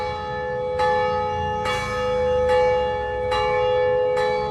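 Church bells ring out from the main church on the town square of Jericó, Colombia, a series of loud, resonant strikes spaced about a second apart, each ringing on with long overlapping tones.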